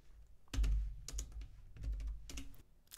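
Typing on a computer keyboard: close, soft clusters of key clacks with brief gaps between them, heard alone.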